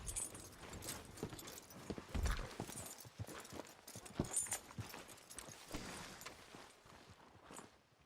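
Horse hooves clip-clop at a steady walking pace in Red Dead Redemption 2, close and fairly loud over a soft outdoor ambience, with no clear whinny.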